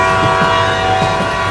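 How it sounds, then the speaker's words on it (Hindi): Cartoon train setting off, a loud steady rumble with a sustained horn-like whistle tone over rhythmic rail clatter, continuous and close with no talking. "ट्रेन चलने लगी, अब हम स्कूल में जल्दी पहुँच जाएंगे"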